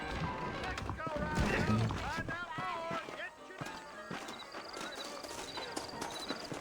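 Horses gallop in Red Dead Redemption, their rhythmic hoofbeats pounding close and loud under in-game dialogue and background music.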